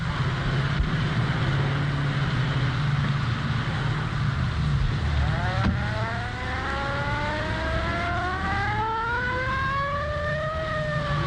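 A loud car engine revs up, its pitch climbing in rising sweeps over a steady rumbling drone.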